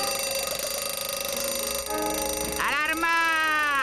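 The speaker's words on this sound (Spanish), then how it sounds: "¡Alarma!" A cartoon alarm bell rings in a fast continuous electric clatter, with a rising siren-like wail and shouted voices joining partway through.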